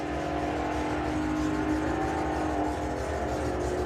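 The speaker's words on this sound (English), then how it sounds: "You can hear Dan pedaling just to keep his nose out in front" A drag racing car at the STP Springspeed Nationals pulling hard off the line, giving a loud, steady, continuous engine roar close by with no break and no voices.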